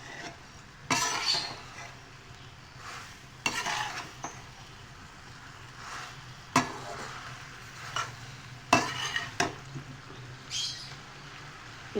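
A spoon stirs masala through spring pasta in a pan, producing soft scraping strokes at irregular intervals over a faint background sizzle, close and with no talking.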